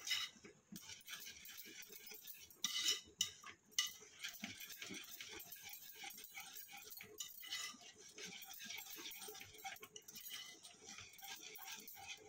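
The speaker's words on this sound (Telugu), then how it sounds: "ఇప్పుడు దీన్ని పప్పు గుత్తితో మెదుపుకుందాం" Cooked lentils for a bottle gourd and moong dal dish being mashed in a pot with a wooden dal masher: soft, wet squelching and scraping pressed out repeatedly, with a few brighter metallic clinks near the start.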